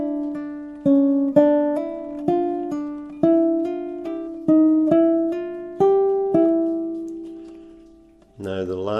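A bar of a Morkov Method study in C played on a Russian seven-string guitar in open G tuning, with a hammer-on and pull-off. About a dozen plucked notes ring out clearly at a steady pace, and a voice begins speaking right at the end.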